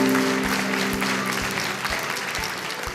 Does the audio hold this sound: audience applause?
yes